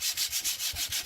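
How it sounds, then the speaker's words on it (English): Sandpaper of 150 grit rubbing over slick laminate cupboard doors, a steady back-and-forth scratchy hiss in quick, even strokes, close and alone. "I'm sanding them with 150 grit sandpaper, just to roughen them up a bit"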